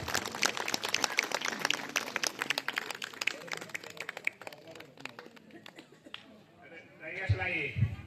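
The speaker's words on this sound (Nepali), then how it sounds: "सबैलाई ताली बजाइदिन हुन हार्दिक अनुरोध गर्दछु।" Audience at a water and sanitation users' group general meeting clapping in a dense, rapid patter that thins out after several seconds, followed by a voice speaking.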